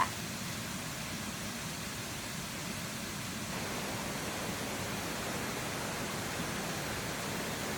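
The second tier of the Jantur Emporok waterfall in Indonesia roars as a steady, broad rush of falling water, continuous and fairly distant, growing slightly fuller midway with no voices.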